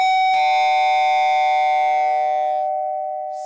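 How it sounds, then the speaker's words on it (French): An Aeotec Doorbell 6 chime rings loudly after its button is pressed, a bright sustained tone with rich harmonics that holds for about two seconds and then fades away. "Donc le carillon fonctionne, si j'appuie,"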